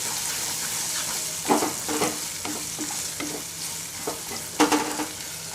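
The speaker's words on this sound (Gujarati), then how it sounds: "ફણસીને આપણે થોડી સાતળી લઈશું." Finely chopped green beans sauté with asafoetida in a hot pan, giving a steady close sizzle. A spoon scrapes and stirs in irregular strokes over it, and no one talks.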